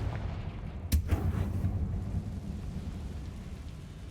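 A Confringo fire spell blast in Hogwarts Legacy lands as one sharp burst, followed by a low, rumbling roar that slowly fades into a steady background rumble, with no talking.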